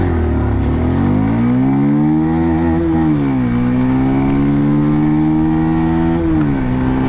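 A Bajaj Pulsar 150 or TVS Apache RTR 160 2V motorcycle on an acceleration run, engine loud and close as the revs climb, dip at gear shifts and climb again, with no talking.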